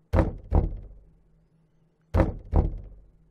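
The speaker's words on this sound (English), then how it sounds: "Whatever it is, it's knocking right outside the door." Two pairs of sharp, hollow knocks land on a door just outside, close and loud, each double rap followed by a pause and silence between.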